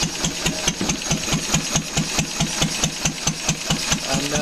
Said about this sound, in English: And stop the engine.